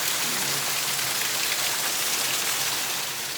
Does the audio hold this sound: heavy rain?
yes